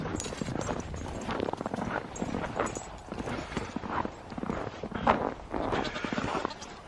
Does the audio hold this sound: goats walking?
yes